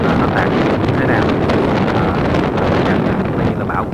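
Strong wind rushes across white sand dunes in a sandstorm, a loud continuous roar buffeting the microphone with steady gusting turbulence and no letup.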